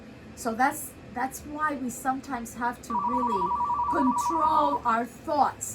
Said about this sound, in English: Can't help the phone ringing.